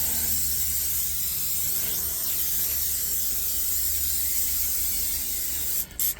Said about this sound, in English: we're going to put a little Pam spray on it